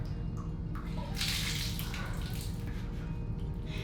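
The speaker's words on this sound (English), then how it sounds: "It won't stop dripping water." Water runs and splashes steadily from a leaking toilet during bathroom demolition, a constant close rushing wash with faint drips over it and no speech.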